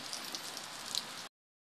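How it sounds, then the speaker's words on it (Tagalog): Heavy rain falls steadily in a brief outdoor burst, a dense, even hiss of drops on surfaces with a few louder splashes, cutting off suddenly after about a second. "lakas ng ulan"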